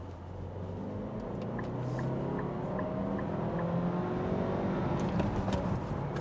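A Nissan Qashqai crossover SUV with a manual gearbox accelerates hard through the gears, its engine note rising steadily in pitch with each gear, heard from inside the car over constant road and wind noise.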